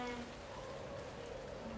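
Steady rain falling on a surface, a continuous dense patter at even loudness, heard alone through a sound box installation.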